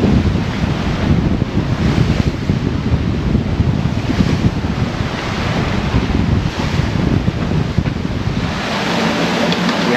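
Strong wind roars across the microphone on a sailboat beating upwind in about 22 knots, with rushing waves and hull splash underneath, loud and continuous throughout.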